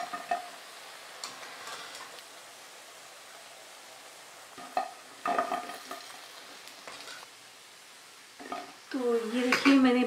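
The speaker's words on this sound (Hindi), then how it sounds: "बालू शाही को बिल्कुल गोल्डन कलर आने तक फ्राई कर लिया है।" Balushahi pastries frying in hot oil in a pan, with a low steady sizzle, scattered clinks of a spoon stirring against the pan and louder bursts of bubbling near the end, close by with no talk.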